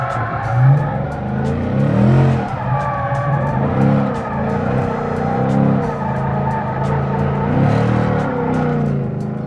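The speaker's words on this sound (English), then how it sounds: "now we're gonna do some donuts, about the same thing. Clutch in, handbrake." A Ford Mustang spins donuts with the handbrake, its tires skidding and squealing in long repeated sweeps over a steady, loud engine drone, with no talking.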